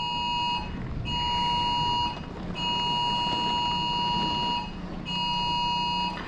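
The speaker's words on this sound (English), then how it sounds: "There's the phones going off again." Phones sound emergency alert tones for a tornado warning, loud steady electronic buzzing beeps in four long bursts separated by short gaps, ringing indoors with no talking.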